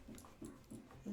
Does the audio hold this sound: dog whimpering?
yes